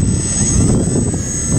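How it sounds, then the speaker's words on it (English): Motors of an RC tailsitter aircraft spinning up with propellers turning, a steady close whine over a low buzzing hum, heard alone with no talk. "The motors are going to be released. They're going to start."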